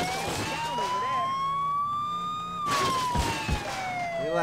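A police car siren wails in the video game True Crime: Streets of LA, a loud rising and falling electronic tone with driving noise underneath and someone talking over it.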